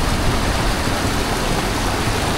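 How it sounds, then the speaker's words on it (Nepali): A waterfall beside a mountain trail in Langtang roars close by as a loud, steady, dense rush of falling water, with no voices. "अब बाटोमा चाहिँ झर्ना देखियो"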